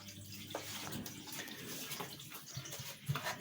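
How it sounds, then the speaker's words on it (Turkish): A steady wash of flowing water circulates in a homemade stingray aquarium setup, a continuous moderate rushing with small splashy ripples, heard close and with no voices. "Şuraya da bir su akıntısı yaptım"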